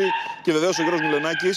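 A small dog in a television studio yips and barks repeatedly in quick bursts, loud and close, mixed in with someone talking.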